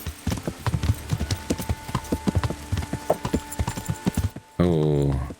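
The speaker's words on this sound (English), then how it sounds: "whose horse is that?" Horse hooves clip-clopping at a steady walking pace in the medieval video game Kingdom Come Deliverance, loud and close, ending with a short horse whinny.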